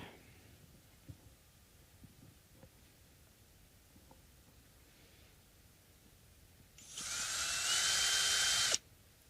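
A drill bit bores into a guitar body for a pickup modification, a loud sustained whine lasting about two seconds after quiet handling noises.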